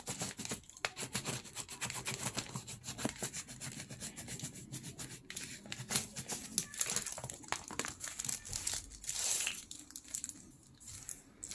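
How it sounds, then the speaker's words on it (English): A bone folder presses and rubs along a glued paper bag junk journal, giving close, continuous scraping and crinkling strokes with repeated short rubs and no talk. "I'm gonna press it with my bone folder."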